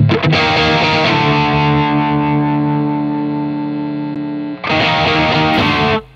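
A high-gain electric guitar through a Marshall JCM amp and Marshall cabinet rings out a loud, thick, distorted chord that sustains for about four seconds, cuts off, then a second heavy chord strikes and rings before stopping.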